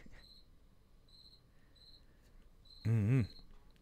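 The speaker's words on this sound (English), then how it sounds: "You can actually hear the crickets" Crickets chirping in soft, regular pulses repeating through a quiet room, faint and steady, with a brief louder burst near the end.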